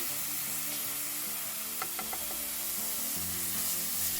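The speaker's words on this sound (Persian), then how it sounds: "با حرارت بالا تفت بدید." A steady, hissing sizzle of mushrooms with lemon juice sautéing over high heat in a pan, close up, with a few light stirring clinks partway through and no talking.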